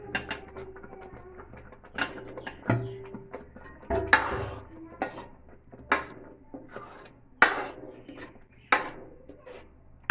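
Paneer cubes, 200 grams, dropped into cooked spinach in a pan, giving a series of soft, close clinks and scrapes with spoon-on-pan rubbing at an irregular pace and no talk.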